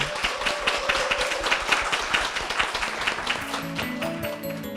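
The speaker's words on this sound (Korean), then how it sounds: "힘찬 축복의 박수 부탁드리겠습니다" Dense applause from a church congregation, steady clapping throughout, with a few faint musical tones entering near the end.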